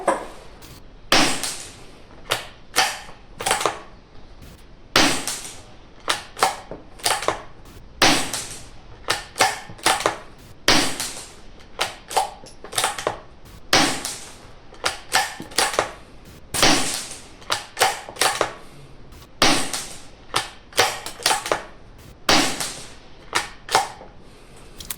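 A Webley & Scott Xocet Carbon air rifle (Diana R22) fires a series of ten shots, each a sharp, close crack with a short mechanical clack, separated by cocking and loading handling noises at irregular intervals, no voices.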